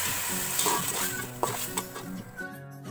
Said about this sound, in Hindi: अच्छा सा कलर देंगे, गोश्त को फ्राई करेंगे।